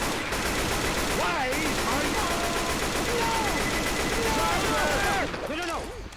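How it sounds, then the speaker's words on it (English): A pipe bomb explodes in Left 4 Dead 2 amid dense gunfire and chaotic zombie-horde noise, loud and continuous with a voice talking through it, the din easing off at the very end. "let's throw a pipe bomb"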